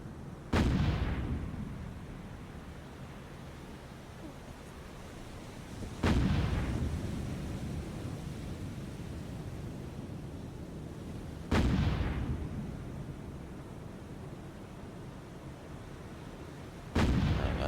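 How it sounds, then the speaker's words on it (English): Sixteen-inch naval guns fire in a War on the Sea battle game between USS New Jersey and Yamato, four heavy booming salvos spaced about five seconds apart, each followed by a rumbling decay. "That's why I'm not firing anything but 16s at him."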